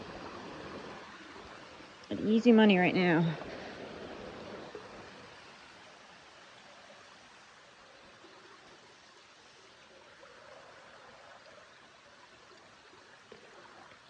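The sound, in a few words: stream flowing at a hiking trail crossing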